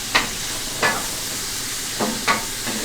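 Ground hamburger or chicken seasoned with Italian seasoning frying in a pan: a constant sizzle broken by four sharp scraping stirs of a utensil, close and fairly loud, no talking.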